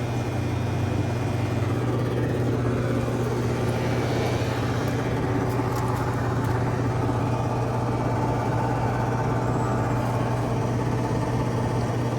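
A central air conditioner with an LG scroll compressor and fan runs with a loud, steady, close hum and broadband whoosh of moving air, unchanging throughout.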